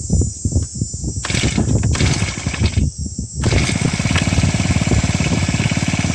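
Husqvarna 324L 4-stroke gas string trimmer, set on full choke, sputtering through a few start attempts before catching and running at a loud, steady buzzing idle close by.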